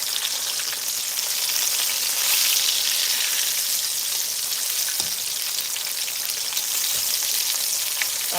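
Whiting fish fry in hot oil, a steady bright crackling sizzle like rain with a couple of low knocks near the end, no voices.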